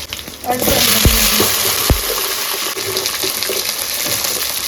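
Fennel seeds, black pepper and chilli crackle and sizzle loudly in hot sesame oil, a dense broadband hiss with a couple of sharp knocks as a spoon hits the pan.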